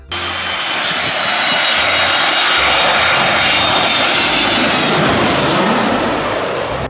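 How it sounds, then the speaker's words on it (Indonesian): A steady airplane engine roar builds and holds loud and continuous for several seconds, a broad droning rumble with no talking over it. "Di sini ada pesawat terbang ya."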